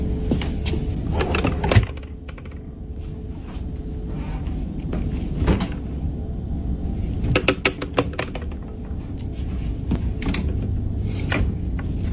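A wooden dresser drawer pops open by itself, a sudden knock-and-slide near the start followed by scattered faint clunks and rattles against a steady room hum, no speech.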